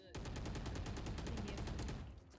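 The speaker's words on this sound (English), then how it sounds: "Why are they shooting my body?" Rapid automatic gunfire from a Valorant match, a dense, steady burst of evenly spaced shots lasting about two seconds, loud and close.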